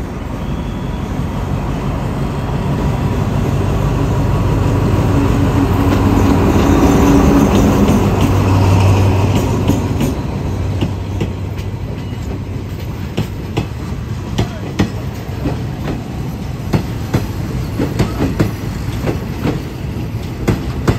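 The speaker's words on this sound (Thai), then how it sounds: "ขบวนรถเร็วขบวนที่ 167 กลางกรุงเทพอภิวัตรปลายทางสถานีกันตังเข้าสุราษฎร์ธานีทางที่1ครับ" Rapid train 167, hauled by Alstom locomotive 4308, rolls into Surat Thani station on track 1 with a loud rumble, a brief low horn-like tone, then steady rhythmic clickety-clack of wheels over rail joints as the cars pass close by.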